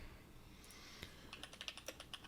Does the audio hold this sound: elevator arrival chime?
no